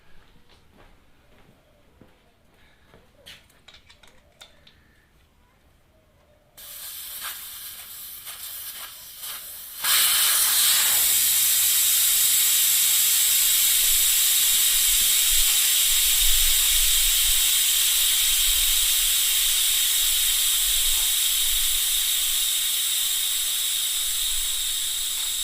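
Air rushing out of a motorcycle tyre valve after the valve core is removed, a loud continuous hiss that starts abruptly after quieter handling noises and holds steady to the end.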